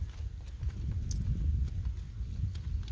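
A horse being ridden through left and right turns around cones walks on, its hoof clip-clops steady and close throughout, with no talk over them.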